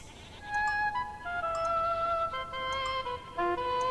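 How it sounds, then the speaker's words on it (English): Herds of goats and sheep bleating on logged, eroded hillsides, several overlapping wavering calls from a few animals at moderate distance, steady and clear over a faint background with no talking. "The problem of erosion is worsened by large herds of goats and sheep that roam the logged hills."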